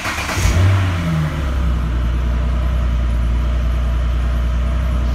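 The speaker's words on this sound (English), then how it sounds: "Let me start the vehicle so we can see it in action." A car engine starts during a diagnostic scanner test, with a brief cranking burst that catches, revs and then settles into a steady, loud idle close by.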